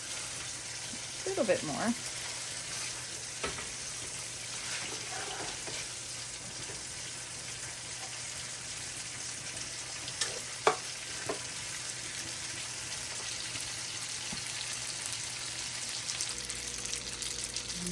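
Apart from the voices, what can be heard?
stirring pasta in garlic butter wine sauce in pan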